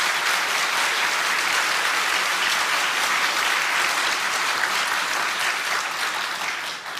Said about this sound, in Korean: 우리 뜨겁게 박수 한번